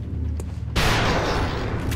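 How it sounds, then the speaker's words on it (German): A gunshot in the Xcom Long War turn-based strategy game bursts out abruptly after a low ambient game background, a loud sharp blast followed by a sustained rumbling decay. "Und ihn könnte ich eventuell jetzt töten. Wenn der Schuss gut sitzt."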